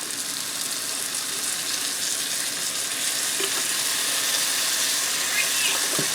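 Sliced mushrooms and pre-diced garlic frying in a pan give a dense, steady sizzle with faint stirring scrapes, close and continuous throughout.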